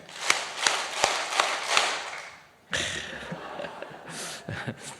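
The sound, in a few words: congregation clapping hands five times in church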